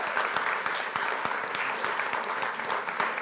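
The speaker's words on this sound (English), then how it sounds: "how about a great round of applause for our panel here?" Steady audience applause after a political debate between Republican Senate candidates in Grand Rapids, Michigan: dense, even clapping from a room full of people, sustained at a moderate level throughout with no voices standing out.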